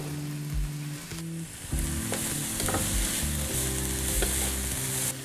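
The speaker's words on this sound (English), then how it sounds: "So first, saute the onions. We throw in our mushrooms now." Onions and mushrooms saute in olive oil for keto lasagna, a steady loud sizzle with stirring scrapes throughout. Music plays along underneath.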